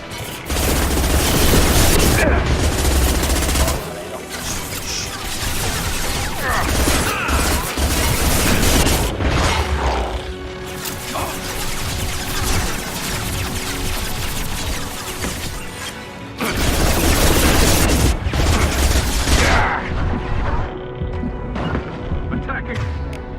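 Gunfire in the sci-fi shooter Mass Effect 2: loud bursts of shots, booms and crashes in dense clusters, broken by brief pauses, mixed with in-game voices talking.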